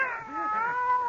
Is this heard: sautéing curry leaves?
no